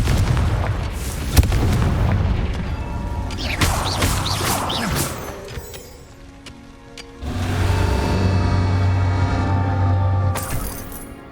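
Confringo blasting spell explosions in the Hogwarts Legacy video game, a string of loud booming blasts and crashing impacts with rumbling tails, followed by a steady low hum.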